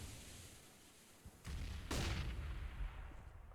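Gunfire in a CS:GO match on the Cache map, a pair of sharp shots followed by a rumbling burst of game sounds, fairly faint under a steady background hiss.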